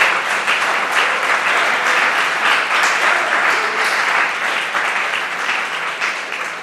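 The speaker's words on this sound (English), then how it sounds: "give a round of applause to anyone who has been a board member over the time" A hall full of people applauds steadily for the volunteer board members of a food co-op at its annual meeting, dense close clapping sustained evenly for the whole stretch with no voices over it.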